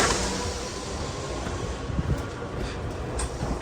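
The Nagaden Yukemuri limited express train at Yudanaka rumbles along steadily, a continuous close rolling roar with faint wind noise and no talking.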